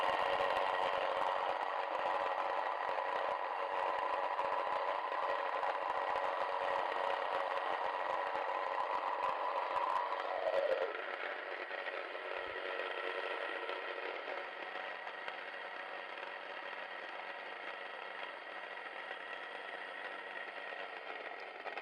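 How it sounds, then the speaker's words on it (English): A Sana by KoMo electric grain mill grinds grain with a steady, loud mechanical whir and gritty rattle, then shifts to a lighter, emptier hum as the grain runs out. No one speaks. "start the machine. I'll put the bowl here over at the outlet, and you want to make sure the machine's running before you put in the grain"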